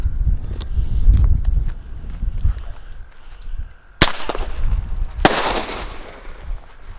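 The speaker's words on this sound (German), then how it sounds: "Okay, sehr schnell haben die geknallt." Two sharp bangs from small bird-scaring banger cartridges go off outdoors a second apart, amid wind rumble and faint earlier crackles.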